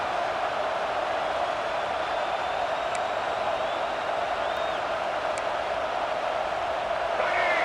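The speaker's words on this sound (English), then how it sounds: "This crowd, full throat, splitting the eardrums" A football stadium crowd roars in a continuous, dense wall of cheering that stays loud and steady throughout, with no single voice standing out.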